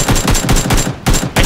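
Loud, close gunfire in the video game PUBG: rapid automatic bursts in quick succession, broken by a couple of short pauses, with no voices over it.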